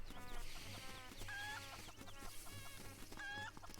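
A cucco chicken in the Link's Awakening video game on Switch makes a few faint, quick clucking calls in a short, busy run of game sounds, with no voices.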